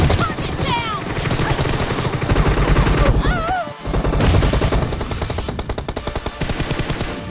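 Rapid automatic gunfire in the PUBG (BGMI) video game rattles loud and dense in sustained bursts, with brief game voice callouts and whooshing effects layered in.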